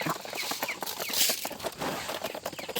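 Chickens clucking in a dim backyard shed at feeding time, a steady busy jumble of short clucks throughout, fairly close and unbroken by talk.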